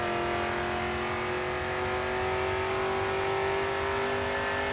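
Front-engine rear-wheel-drive race car in GRID 2 held at full throttle, a sustained loud engine howl with a slowly rising pitch, steady and unbroken, with no talk.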